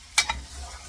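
Ingredients for chambre, an Ecuadorian-style stew, stirred in a hot frying pan, one quick scraping swish followed by a softer second stroke, close and brief.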